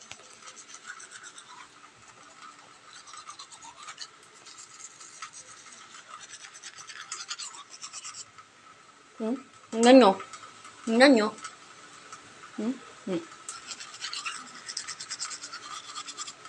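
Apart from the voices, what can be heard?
brushing with a toothbrush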